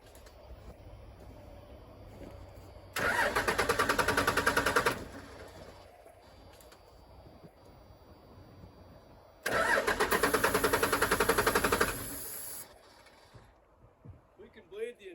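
A 1996 Dodge Ram 2500 with a 12-valve Cummins diesel cranks over in two loud bursts of about two and three seconds each, its starter churning rapidly without catching, with quiet gaps and brief voices between attempts.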